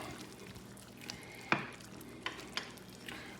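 Garlic shrimp in lime sauce being stirred in a pan, with a low sizzle and a few distinct clicks of a utensil against the pan, close and fairly quiet, no voices.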